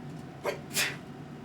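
A single sneeze in a quiet room, a short sharp intake of breath and then a crisp burst, fairly faint.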